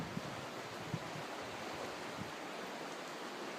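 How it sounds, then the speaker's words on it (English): River rapids at Banning State Park rush in a steady, broad wash of water noise, continuous and fairly close, with occasional faint thumps of movement. "Just getting past the rapids right now."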